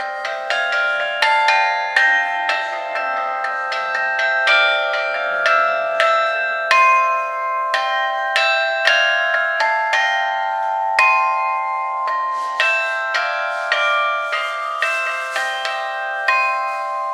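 A carillon played in a church: its bells are not yet mounted in the tower. Clear, ringing bell notes are struck one after another in a melodic pattern, with overlapping tones that sustain and decay, loud and close, for about seventeen seconds with no voices.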